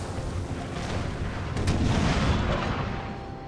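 Cannon and howitzer fire in a large American Civil War battle from the Napoleon: Total War ACW mod, with distant, overlapping artillery booms and musketry rumbling steadily, swelling midway through.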